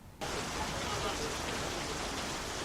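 Steady rain falling, recorded in Cotonou, begins abruptly and continues as a dense, even hiss of drops at moderate loudness, with no breaks.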